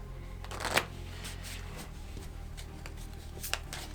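A deck of Marvel Legendary game cards is shuffled by hand close up, with two brisk riffling bursts separated by softer sliding and tapping of cards, and no talk.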